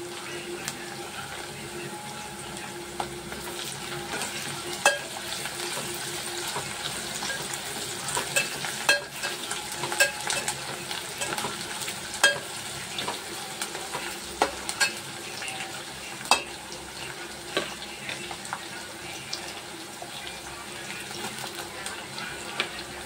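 Ginger garlic paste frying with green chillies in a pan for egg biryani, a soft continuous sizzle punctuated by frequent scraping and tapping of a spatula while stirring.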